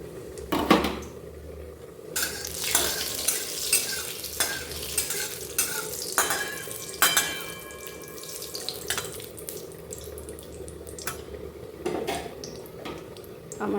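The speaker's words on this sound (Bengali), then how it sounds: "এই যে একটু কালো জিরা, শুকনো লঙ্কা দিলাম" Nigella seeds and dried red chili are tempered in hot oil in a pan, giving a busy sizzle with repeated stirring and scraping clatter over roughly fourteen seconds, loud and close, with intermittent tonal rings from the utensil and no speech.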